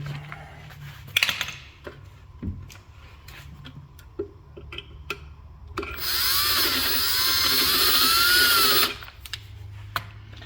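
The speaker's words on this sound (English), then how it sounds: "I'm using the exact size hole, exact size drill bit as the rivet is." An electric drill boring rivet holes with a bit matched exactly to the rivet size, giving a loud, steady whine for about three seconds, with scattered clicks and taps from handling before and after.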